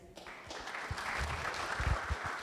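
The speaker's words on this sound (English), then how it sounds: "Round of applause for Yi." An audience at a talk on a virtual assistant ability model claps in a sustained burst of applause that swells quickly and holds steady, fairly close.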